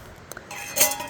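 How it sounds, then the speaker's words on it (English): A metal lid rattling and clinking on a camp pot boiling over at a campsite, a brief burst of bright metallic chinks close by. "It keeps popping the lid off."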